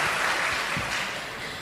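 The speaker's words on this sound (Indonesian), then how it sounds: "Oke, tepuk tangan untuk kita semua." New university students in a large hall give a short burst of applause that fades over a second or so.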